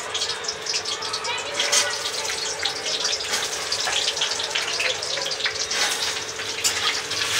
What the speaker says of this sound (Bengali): তার আগে আমি আলুটা ভেজে দিচ্ছি।